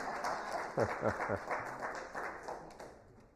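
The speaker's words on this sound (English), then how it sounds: "How about a hand clap for our volunteer?" Clapping for a volunteer during a church service led by a pastor, moderate and scattered over about three seconds, mixed with voices.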